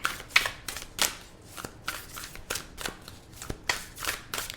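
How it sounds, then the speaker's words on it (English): Repeated riffle-and-snap bursts of tarot cards being shuffled close up, a quick uneven series of crisp flutters with brief pauses between them. "3 shuffles and then I'll cut the deck."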